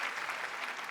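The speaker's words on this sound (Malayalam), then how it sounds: "മണിച്ചേട്ടന് വേണ്ടി ഒരു കൈയടി." A game show studio audience claps for Manichettan in a short, soft burst of applause, faint and brief with no talk over it.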